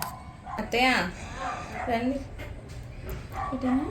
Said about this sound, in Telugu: ఎక్కడ కుక్క అరుతుందండి బాబు.